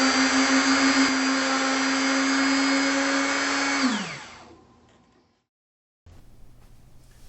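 Router with a 1/8-inch spiral downcut bit, controlled by a foot pedal, cutting a rosewood fretboard on a black Dan Armstrong bass: a loud steady high whine that spins down to silence, then faint room noise.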